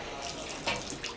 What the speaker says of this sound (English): Just a little dribble of water.